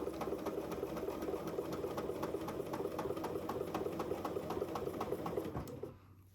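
A sewing machine stitches a practice quilt sandwich, whirring steadily with a fast, even rhythm of needle strokes close by, then slowing and stopping near the end.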